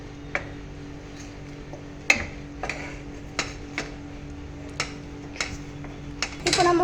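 Fried chicken pieces being stirred and mixed in a cooking pan, giving sharp scattered clinks and scrapes of utensil against metal at an irregular pace, fairly close, with a steady background hum and a busier clatter at the end.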